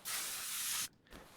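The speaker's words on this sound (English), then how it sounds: "Let's get my WD-40." A can of WD-40 sprays a sharp, close hiss lasting under a second in the Car Mechanic Simulator 2021 game, followed by quiet and a faint second puff.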